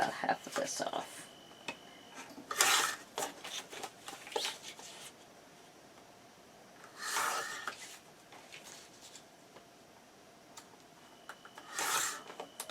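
Paper being cut for a sea-themed craft mini album and display box, giving three short bursts of scissor snipping and rustling near the start, middle and end, with quiet handling between.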